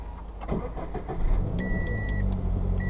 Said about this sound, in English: let's start by firing up the car